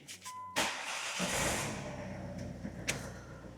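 A Ford 2.0 TDCi diesel engine with 91,000 miles cranks over and catches, settling into a loud, steady idle close by, with a couple of short knocks near the end.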